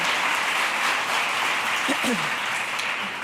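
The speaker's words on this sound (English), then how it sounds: "Give yourselves a round of applause." Audience applause fills a hall during a speech by a speaker at an International Women's Day event, a steady, dense wash of clapping throughout with a brief voice surfacing partway through.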